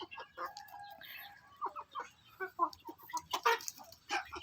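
Free-range village chickens clucking and chattering on a farm with open land, several birds making short overlapping calls at close to moderate distance, fairly quiet overall.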